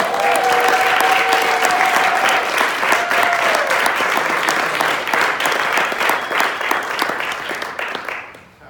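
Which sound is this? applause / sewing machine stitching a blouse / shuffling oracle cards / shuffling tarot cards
applause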